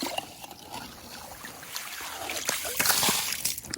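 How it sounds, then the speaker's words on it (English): A pot scoops water from a frozen lake in winter: sloshing and splashing build gradually, close by, with trickles and drips as water pours, growing louder toward the end. "I'm going to have to go back up and get a pot or a vessel to pull the water out of this lake."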